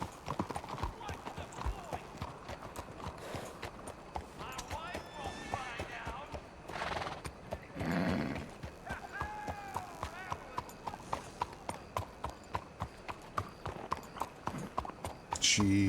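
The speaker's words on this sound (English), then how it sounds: "Whoa, horsey, whoa." Video game horse hooves clip-clop in a fast steady rhythm with occasional whinnies, close and loud, while someone speaks over the galloping.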